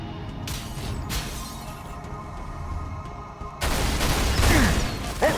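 Gunfire in the video game Halo, scattered bursts of shots over background game noise, growing louder and denser in the final seconds.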